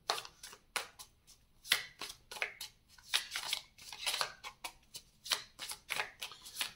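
Tarot cards are shuffled close by in rapid, repeated riffling bursts, with each crisp flurry of card edges followed by a short pause.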